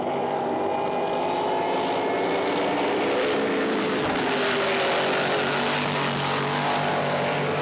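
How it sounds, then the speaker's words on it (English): Drag boat with a Noonan Hemi engine at full power roars past during a race, a loud, raw engine howl building and holding with some crowd or water noise underneath, no speech. "This is the first time I've seen that run full noise, that Noonan Hemi."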